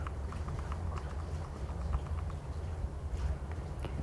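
Wild horses in the mountains move over the ground, with a steady low rumble and faint irregular hoof clops running throughout, under continuous outdoor background noise.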